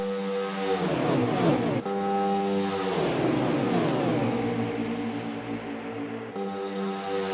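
Stock cars roar around the track at Daytona in NASCAR Heat 4, several engines droning together at steady high revs with pitches shifting as cars pass, continuous and loud throughout.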